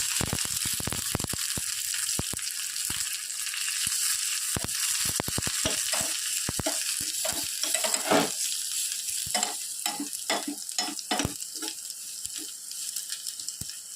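Garlic, fennel seeds and curry leaves sautéing in hot oil for a mung bean sambar, a steady close sizzle broken by repeated sharp scraping strokes of a spoon stirring the pan, no voices.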